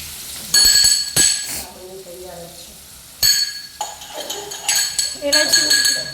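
Onions tempering in hot oil in a pan for kanda poha, with sizzling and frying crackle broken by loud metal spoon clinks and scrapes against the pan, fairly close.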